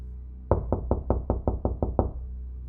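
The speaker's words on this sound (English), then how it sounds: "The owner pounded the door anxiously" Eight heavy knocks pound a door in quick, uneven succession, loud and close, with no voices over them.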